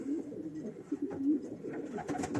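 Racing pigeons coo steadily in a loft, soft low throaty rolling calls repeating close by, with faint rustling and no speech.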